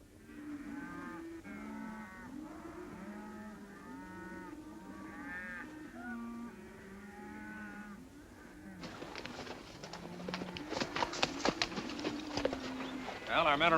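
Cattle rounded up in a basin in a 1950 western low and bellow repeatedly over a steady herd murmur, and hooves clip-clop in louder, denser bursts in the second half, with voices in the scene.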